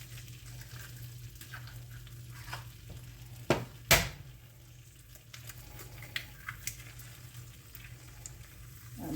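Eggs being scrambled in a pan for breakfast sausage give a quiet sizzle and soft stirring scrapes, with two sharper knocks near the middle over a low steady hum. Nobody speaks.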